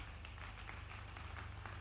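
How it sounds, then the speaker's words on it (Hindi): Scattered applause from an audience at an outdoor public rally, a brief steady patter of clapping over a low hum from the loudspeaker system. "आप ताली वाली बजाते जाओ"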